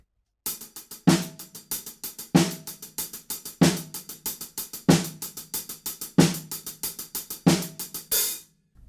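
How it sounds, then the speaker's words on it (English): Drum kit section from a song with snare drum but no kick drum: steady driving hi-hat or cymbal strokes with a crisp snare accent on regular beats, loud and close, no voices. "all we do is add the snare drum back in, but still no kick drum"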